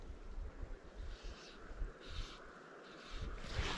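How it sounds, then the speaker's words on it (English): Steady wind rushes and buffets outdoors during fly fishing with a caddis dry fly for brown trout, a continuous broadband roar with gusty swells and no talking. "Wind's helping now."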